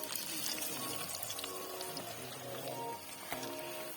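Water is poured into a pot of rice being cooked with onions at home, making a steady splashing, gurgling flow that runs continuously and fairly close.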